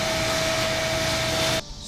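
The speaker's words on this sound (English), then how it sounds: "Real quick, I'm gonna use your shop vac." A shop vac vacuum cleaner runs with a steady, loud broadband roar and a fixed whine, then cuts off abruptly near the end, in a garage during work on a Nissan 240SX.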